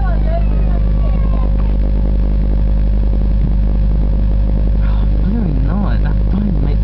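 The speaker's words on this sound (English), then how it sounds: "That boat makes noises." A motorboat engine drones steadily, with a low constant hum and faint chatter of people nearby.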